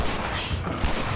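Gunfire in The Last of Us on Grounded hard mode: a dense, rough burst of shots and booms packed into about a second, loud over continuous game noise.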